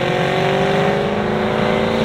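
A 1969 Chevrolet Camaro RS/SS restomod with a supercharged 6.2-liter LS3 V8 and Magnuson supercharger, over 700 horsepower, roaring loud and close in a sustained rev with a steady rising tone and supercharger whine.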